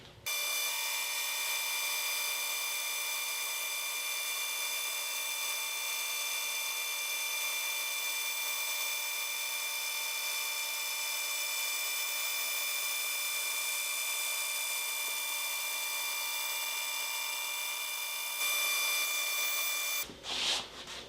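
An automated Accu-Slice resaw system cuts a thin board from a block of wood, producing a steady, loud whine and grinding hum that runs unbroken for about twenty seconds before stopping abruptly.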